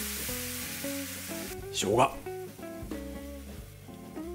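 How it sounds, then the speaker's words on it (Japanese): Pork frying in an oiled pan under music, sizzling, with a louder burst of crackling hiss around the middle as the pork hits hot oil. "フライパンを熱し油を引いて豚肉を炒めます。"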